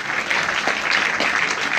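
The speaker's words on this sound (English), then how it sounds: "A round of applause for Mr." An audience applauds for a man being honored at a Father's Day gathering, a steady, dense patter of many hands clapping close by with no break across the short stretch.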